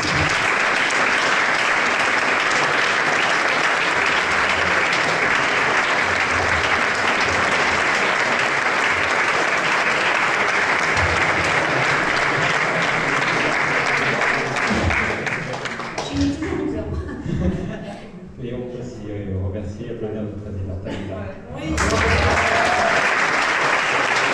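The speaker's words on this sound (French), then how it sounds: "donc je voudrais qu'on l'applaudisse" Audience applause at a thank-you event during an Easter marathon evening with a DJ, heard as loud, dense clapping that runs steadily for most of the stretch. It thins briefly toward the end, then swells back up.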